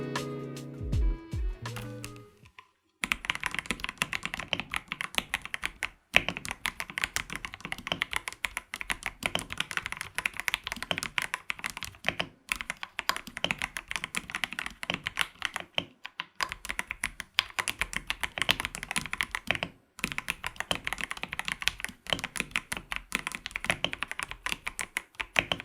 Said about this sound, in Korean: 자, 이제 타건해 볼게요.